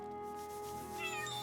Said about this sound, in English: Another kitty.